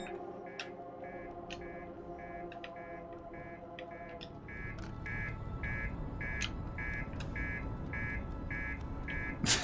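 An annoying buzzer alarm in the video game Outer Wilds sounds as a regular train of short electronic beeps, repeating evenly and growing denser over a rising rumble of background noise.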